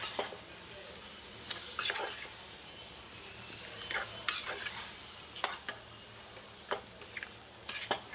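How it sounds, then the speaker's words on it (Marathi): Marinated chicken being mixed into freshly ground Malvani masala paste in a pan, quiet background hiss punctuated by irregular scrapes and clinks of a spoon against the pan. "वाटतामध्ये व्यवस्थित मिक्स करून घ्यायचं चिकन"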